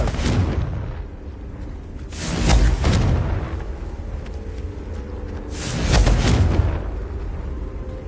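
Two heavy, booming fire-spell explosions from Hogwarts Legacy, each a loud swelling blast with a rumbling tail, set several seconds apart over a steady game background.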